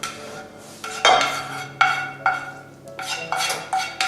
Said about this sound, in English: I'm going to just literally toss through the mushrooms, which we cooked early in the pan.